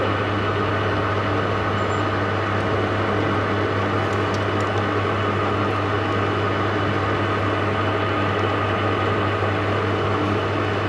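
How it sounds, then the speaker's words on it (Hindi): Steady machining drone of a metal lathe turning a workpiece clamped in the chuck, cutting a taper with the compound rest; a continuous low hum with broadband grinding noise, loud and unchanging throughout. "टेपर भी सेट हो चुकी है और टेपर काटना शुरू करते हैं।"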